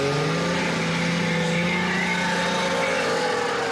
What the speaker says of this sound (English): That was Evinrude's own rotary engine.